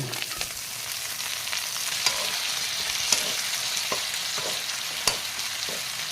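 String beans (sitaw) fry in a pan with garlic, onion and dried shrimp, giving a steady close sizzle with a few clinks of stirring and no talk.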